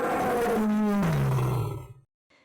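A lion lets out a single deep, powerful roar that starts loud and close, then slides lower in pitch and fades into near silence after about two seconds.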